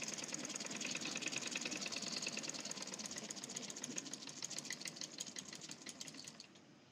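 A sewing machine stitches the sleeve cuff of a kameez, running as a fast, even mechanical rattle close by that carries on steadily and tapers off at the end.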